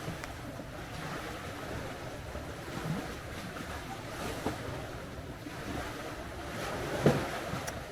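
Ocean waves wash steadily onto a beach in the Philippines, a continuous rolling surf with gentle swells and some wind buffeting the microphone, no speech.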